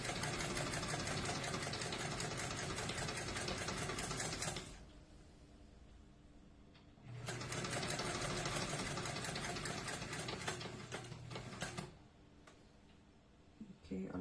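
A domestic sewing machine stitching a lapped zipper seam runs in two steady, buzzing bursts with a pause between them, close and continuous, with a faint hum in the gap.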